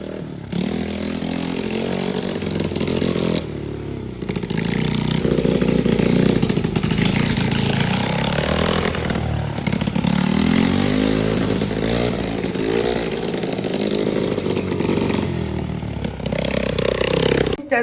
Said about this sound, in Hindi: पहली टेस्ट ड्राइव करके देखी है, ज़बरदस्त हो रही है।